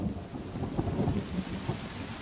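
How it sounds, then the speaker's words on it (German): A storm in the survival video game The Forest: steady rain hisses beneath a low, rolling rumble of thunder that swells and recedes, fairly quiet throughout with no voices. "Oh, jetzt regnet's scheiße."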